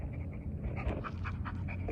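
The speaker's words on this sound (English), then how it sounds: "Freaking dogs, neighbors." Dog panting nearby, a steady run of quick breathy huffs under a low background rumble, with no talking.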